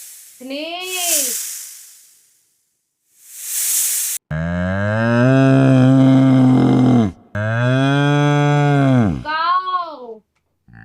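A cow moos loudly at close range: a short low call, then two long, deep, sustained moos with a brief break between, ending in a few shorter grunting sounds.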